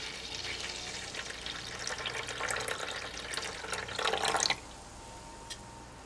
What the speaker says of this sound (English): So I'm just gonna pour my rice water that's been steeping inside my basin.